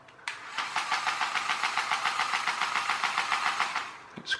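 Small electric drive of a faulty RC quad bike, once trodden on and broken inside, whirring with a fast rattling buzz for about four seconds, near and steady, with clicks at start and end.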